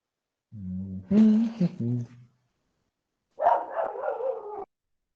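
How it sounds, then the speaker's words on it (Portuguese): A dog barks in short close bursts, a quick cluster of yelping barks followed after a pause by a rougher, lower run of barking, with no other sound around. "O cachorro do Barone falou aqui, mas latiu aqui"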